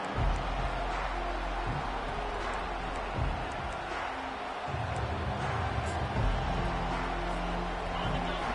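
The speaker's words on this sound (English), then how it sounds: "This crowd bringing an ear-splitting welcome to their visitors." A large stadium crowd cheers at a football game, a loud, dense and continuous roar that swells and dips throughout, heard from a distance with some broadcast commentary over it.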